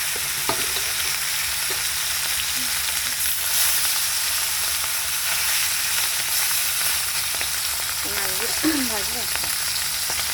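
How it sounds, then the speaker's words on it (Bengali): Large bhola fish pieces frying in a batch in hot oil, a constant, dense sizzle lasting throughout, with brief light clinks and a faint voice near the end. "সবগুলো অল্প অল্প করে ভাজছি বন্ধুরা"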